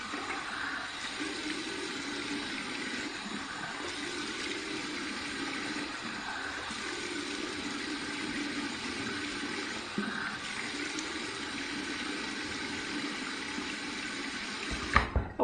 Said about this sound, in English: Here's some cold water to close my pores.